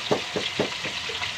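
Food sizzles in a frying pan with a handful of rhythmic stirring scrapes, each a short crackling burst over a steady hiss.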